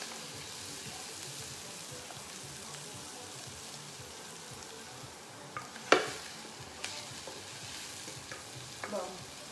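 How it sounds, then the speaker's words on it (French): Condiments simmer quietly in a pan, a faint continuous sizzle broken by a few sharp scrapes and clinks of a utensil stirring. "je vais laisser mijoter un petit peu mes condiments"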